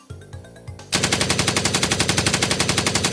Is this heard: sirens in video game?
no